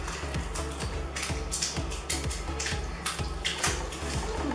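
Water runs from a tap into a bathtub filled with Gelli Baff powder, a steady splashing gush with rhythmic bursts of slopping and sloshing, close and fairly loud, without speech.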